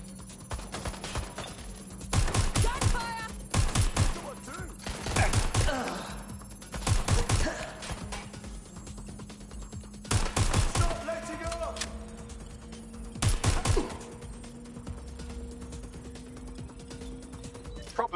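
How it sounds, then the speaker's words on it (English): Bursts of rapid gunfire crackle in a video game, several loud volleys separated by quieter stretches of mechanical clatter and a steady background hum. "Gunfire!"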